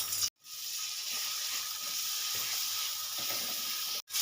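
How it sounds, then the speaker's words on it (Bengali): Tomato and ginger-garlic paste frying in oil in a pan for a spicy Bengali duck curry, a steady close sizzle and hiss broken by two brief silent gaps. "দিয়ে দেবো টমেটো দিয়ে দেবো চায়ের চামচে দু চামচ আদা রসুন পেস্ট ভালো করে কষিয়ে নেব"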